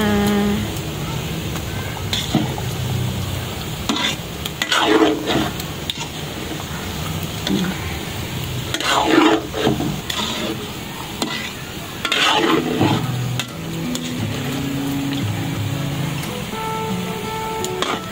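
Sugar-coated banana cue fries and is stirred in a pan, with a continuous sizzle broken by repeated scraping, clattering stirs, and occasional voices in the background.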